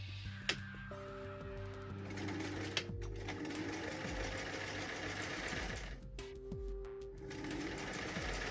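A sewing machine stitching a silk Regency gentleman's coat, running in steady mechanical bursts with short pauses and small clicks, close and moderately quiet.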